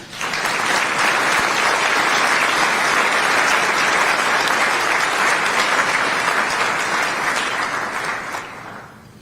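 Sustained applause from an audience honoring Air Force commanders, including a mission support group leader from Davis-Monthan Air Force Base, at a formal event; dense, steady clapping that fills the room for several seconds, then tapers off at the end.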